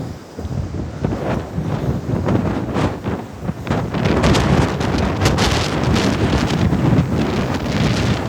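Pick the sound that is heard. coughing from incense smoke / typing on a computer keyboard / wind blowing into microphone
wind blowing into microphone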